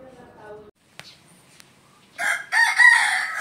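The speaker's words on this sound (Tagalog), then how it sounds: "Huwag yung intindi ng manok." A rooster crows once, loud and nearby, in a rural provincial setting, following a quiet stretch with a short voice and faint scattered sounds.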